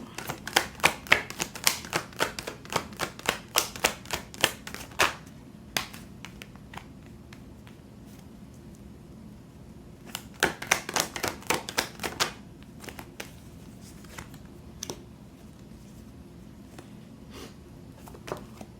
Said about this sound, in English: I'm gonna go ahead and pull my cards